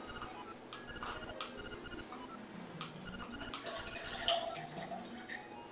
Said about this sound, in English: Do you have to pour in a glass?